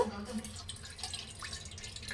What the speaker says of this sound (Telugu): బౌల్ పెట్టుకొని కొంచెం వాటర్ పోసుకుందాము